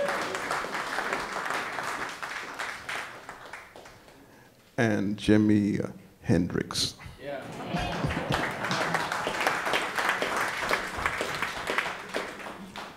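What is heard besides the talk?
audience applause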